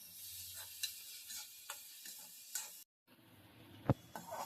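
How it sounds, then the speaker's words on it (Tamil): Onions and green chillies sauté in hot oil in a pan, a quiet sizzle broken by stirring scrapes and small clicks, with a brief cut to silence and a sharper knock near the end. "போட்டு நல்லா வதக்கணும்."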